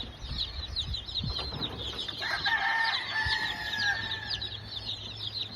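A little rooster crows close by among other clucking chickens, one drawn-out crow standing clear over a steady background of fowl chatter.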